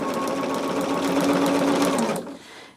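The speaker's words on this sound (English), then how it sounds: "What I'm going to do is sew the first two together." A sewing machine stitches two fabric pieces together in a fast, even mechanical whir close by, running for about two seconds before stopping abruptly.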